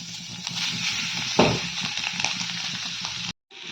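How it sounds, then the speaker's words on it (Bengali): Grated coconut drops into a hot wok and sizzles with a crackling hiss, a sharp burst marking the moment it lands, then steady frying that briefly cuts out near the end. "কড়াইটা গরম হয়ে গিয়েছে, এর মধ্যে এবারে নারকেলটাকে দিয়ে দিচ্ছি"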